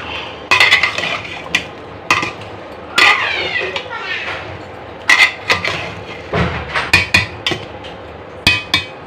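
A lid set down on a cooking pot while fish with eggplant cooks, heard as sharp metallic clanks and knocks, repeated many times at irregular intervals, close and loud, with voices talking in between.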